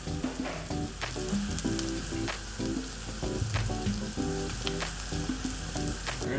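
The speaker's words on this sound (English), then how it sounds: "We've got the onions frying in the pan" Onions fry in a pan with a loud, steady sizzle and crackle, punctuated by clanks of stirring with a utensil, and no voices.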